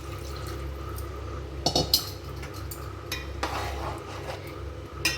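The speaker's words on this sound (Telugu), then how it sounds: "ఇప్పుడు ఇందులో మనం కర్రీకి సరిపడే ఎసరు వేసుకుందాం" Water poured into a country chicken curry in a pot, a soft liquid rush with light clinks and stirring scrapes, fairly close and at a moderate level.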